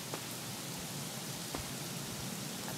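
Heavy rain in the Craftopia video game, a constant hissing downpour with soft scattered drops, fairly quiet and uninterrupted, with no voices over it.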